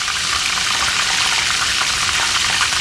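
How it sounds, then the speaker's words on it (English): Loud, dense bubbling and crackling of fish deep frying in plenty of oil, a constant close roar without pauses or voices. "since this is deep frying, since I got plenty of oil in here"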